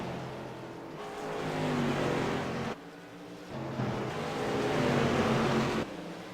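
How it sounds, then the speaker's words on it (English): Modified race cars roar around Richmond International Raceway, engines swelling and fading in two long passes as the pack sweeps by, loud whining revs with a brief dip between them, no voices. "Let's see how Josh Cotton handles the lap traffic as he passes Donahue to the inside in 1"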